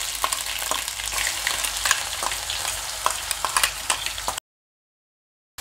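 Ground spice masala with cumin and mustard seeds fries in oil in a wok, a loud steady sizzle with scraping stir strokes and crackles, cutting off abruptly into silence near the end.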